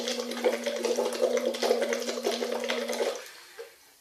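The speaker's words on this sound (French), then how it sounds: "Ce qu'on va faire avec cette paille et cette bouteille d'eau, finalement, c'est chanter en faisant des bulles." Air blown through a straw into a bottle of water makes a continuous bubbling gurgle with a low sung note held underneath for about three seconds, then fades out.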